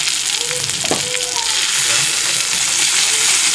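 Coriander paste hits hot oil with fried ginger and garlic for a spicy egg curry, a loud close sizzle with crackling and stirring scrapes, continuous and without talk.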